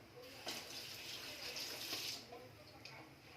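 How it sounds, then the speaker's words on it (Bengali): Hands are rinsed under a running kitchen tap during chicken preparation, a faint continuous splash of water over the sink with slight surges in flow. "চিকেনটা ধুয়ে নেবো, হাতটা ধুয়ে নিই"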